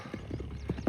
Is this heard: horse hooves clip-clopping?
yes